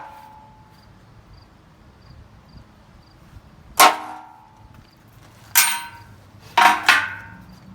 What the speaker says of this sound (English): Then I take a sharp center punch, and I center punch the rivet.